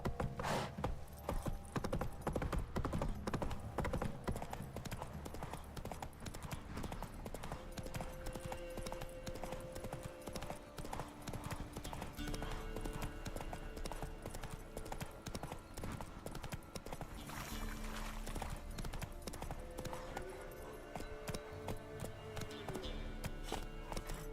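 The horse Roach galloping in The Witcher 3, hooves clip-clopping in a fast, steady rhythm throughout, fairly faint, with a few soft voices underneath.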